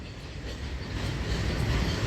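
A long Indian Railways freight train rumbles past at close range, a steady heavy roar of rolling wagons with faint rhythmic clatter that holds constant throughout.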